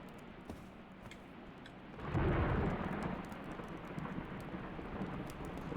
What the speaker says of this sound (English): Rain, lightning, and thunder exist.